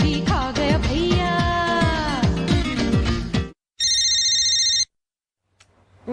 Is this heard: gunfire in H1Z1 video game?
no